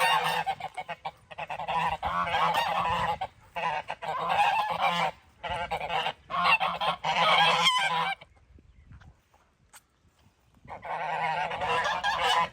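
A flock of geese at a duck and goose pond honks loudly and close, calling in dense bursts that break off into short pauses and quiet gaps before resuming.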